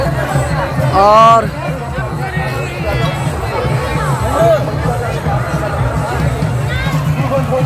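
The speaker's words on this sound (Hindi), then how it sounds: "ये घर वापसी जाने की कतारें लगी हैं, भीड़" Crowd of people queuing at a riverside ghat during Chhath Puja, a steady babble of many voices close around, with one nearer speaker talking over the hubbub.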